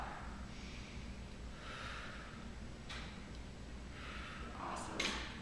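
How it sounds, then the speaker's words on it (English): Slow, soft breaths during a short yoga practice, with airy inhales followed by mouth exhales in a calm rhythm, quiet and close, with a faint snort-like breath near the end. "You can even exhale through the mouth"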